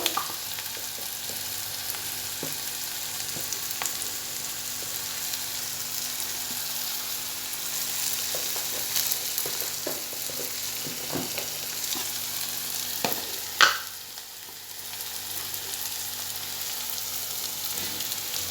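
Onions frying in a pan for prawn pakora, a steady close sizzle with occasional stirring clinks and scrapes throughout, briefly dipping quieter near the end.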